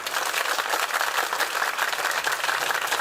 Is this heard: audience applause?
yes